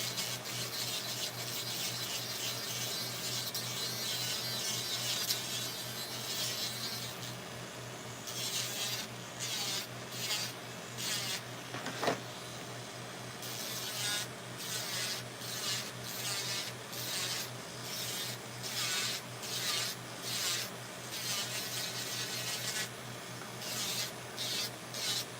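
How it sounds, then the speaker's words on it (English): An electric nail drill grinds yellow polish and glitter lines off a nail set, a steady close rasping whir with rhythmic pulsing strokes as the bit is pressed and lifted, running alone throughout. "I'm drilling the yellow off now and the glitter lines"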